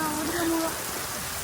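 Rain patters as a dense, even hiss, close and steady through the short moment, with a faint tonal whine briefly in the first half.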